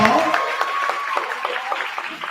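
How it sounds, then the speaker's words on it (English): Audience at a promotion day and graduation ceremony applauds with a sustained patter of many hands, moderately loud and steady, with a voice briefly audible at the start. "Let's give him a round of applause."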